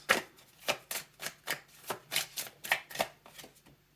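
Tarot cards being shuffled by hand in a quick, steady run of about a dozen crisp riffling bursts, close and fairly soft, with no talking over them.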